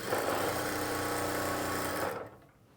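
An electric sewing machine runs a fast, steady stitch along a plain blouse seam, sewing over the first line of stitching, then stops abruptly after about two seconds, close up with no voices.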